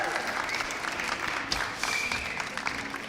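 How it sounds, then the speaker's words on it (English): Steady crowd applause at a drone race event fills the whole moment at moderate volume, an even wash of many hands clapping as a pilot departs. "Please give a round of applause"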